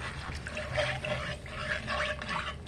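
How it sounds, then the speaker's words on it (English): Cup of broth poured into smooth gravy for Salisbury steak in a pan, a steady liquid pour with light trickling and a faint stirring texture throughout, moderately quiet and close. "Now I'm going to add another cup of broth."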